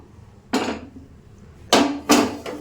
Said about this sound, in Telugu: ఇప్పుడు దీనిపైన మూత పెట్టేసుకుని డైరెక్ట్గా దమ్ చెయ్యను